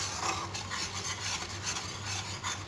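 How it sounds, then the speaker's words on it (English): A spoon rasps and scrapes through thick potato curry gravy with ginger garlic paste and garam masala in a pan, a continuous close rubbing stir with no talking. "So we will stir it well"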